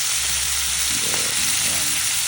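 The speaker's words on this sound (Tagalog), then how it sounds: "ilagay natin ang mushroom, gisahin din natin." Mushrooms sautéing in a pan for ginisang mushroom, a steady close sizzle with brief stirring sounds, no talk.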